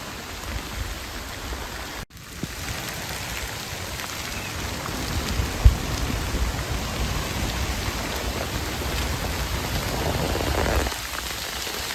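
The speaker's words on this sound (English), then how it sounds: "Defo chucking it down." Heavy rain pouring down outdoors on a pasture, a dense, steady hiss of drops on surfaces, close and continuous, with no talk.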